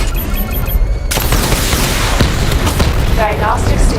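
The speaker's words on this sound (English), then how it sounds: "Missile barrage level 2 ready" A missile barrage in the Batman's Dark Autumn video game, a loud continuous wall of booms and crackling blasts with a sharp burst near the start, a voice speaking under the noise.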